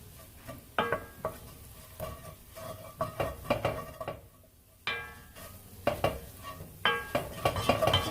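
Vegetables and flour are stirred in a pot as they cook, giving a series of close scraping, clinking strokes in an irregular rhythm with brief pauses and no speech.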